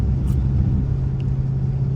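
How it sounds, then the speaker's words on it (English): The Dodge Hellcat Jailbreak truck drives through a hurricane, its engine a close, steady low rumble that holds level throughout with no voices. "I'm driving a Hellcat Jailbreak during a hurricane"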